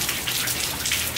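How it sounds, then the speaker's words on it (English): Rain falling outdoors, a steady close wash of hiss and patter that holds at one level with no voices. "rain's cool when you're inside"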